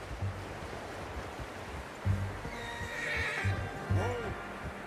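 A horse neighs and whinnies in Red Dead Redemption II, fairly faint, over hoof clip-clops and a rushing ambient wash.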